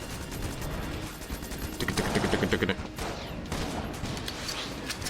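Rapid gunfire in the Enter the Gungeon video game during a boss rush, with bursts of rattling shots and game effects beneath a player talking.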